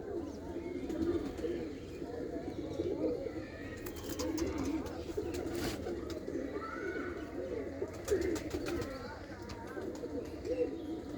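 Pet pigeons, white birds with black-marked backs kept as a newly flown pair, cooing in repeated soft rolling calls throughout, while someone talks over them nearby.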